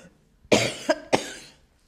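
A person coughs three times in close succession, the first cough strongest, in a quiet room with no talking.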